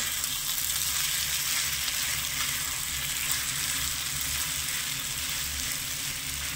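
Sago pearls frying with ghee in a pan over medium-low gas while being mixed for laddu, a constant close-up sizzle with a low steady rumble and faint stirring movement underneath, no talking.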